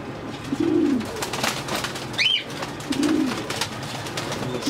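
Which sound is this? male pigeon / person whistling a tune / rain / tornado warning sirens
male pigeon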